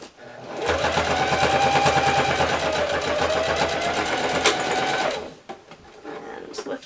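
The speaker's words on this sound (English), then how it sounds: "And then top stitch immediately." A sewing machine top stitching a quilt runs in a fast, steady close-up whir for about four seconds, then stops, with a faint click and light handling noise afterward.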